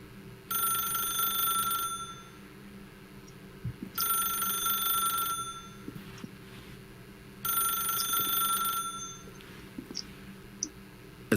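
A telephone rings in The Stanley Parable, three long electronic bursts with short pauses between them, loud and close over a low ambient hum.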